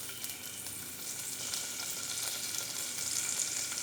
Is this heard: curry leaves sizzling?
yes